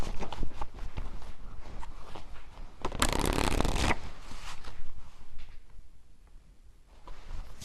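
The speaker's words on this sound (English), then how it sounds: "I just shuffled these" Tarot cards are shuffled with soft riffling and handling noises, including one louder burst of rapid flicking near the middle.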